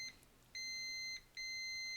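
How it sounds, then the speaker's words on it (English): Two short, quiet electronic beeps from a multimeter on continuity test as its probes touch both sides of a shorted capacitor on a USB-C dock board, separated by a brief pause. "if I probe both sides of this capacitor, it beeps"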